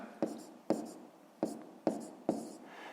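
Pen writing out a maths sum on paper, five distinct crisp strokes in an even rhythm, close and fairly quiet, with a voice softly present between them.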